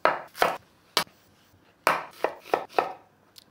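A knife chops onions into quarters on a cutting board, giving about eight sharp, separate thunks in two irregular bursts, close and clear with no talking.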